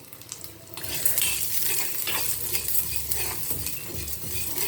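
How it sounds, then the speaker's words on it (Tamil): Ingredients for a Salem mango gravy fry over low heat in a pan, with a continuous close sizzle and a metal spatula scraping and clinking against the pan throughout. "இதை நல்லா வறுக்கலாம்"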